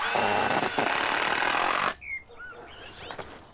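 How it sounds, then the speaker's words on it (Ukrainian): A cordless screwdriver drives a screw in one quick push, its motor buzzing loud and steady for about two seconds before stopping abruptly, followed by faint squeaks and light handling noise. "Шуруп. Шуруповерт. Наживляєш прикладаєш і одним різким рухом."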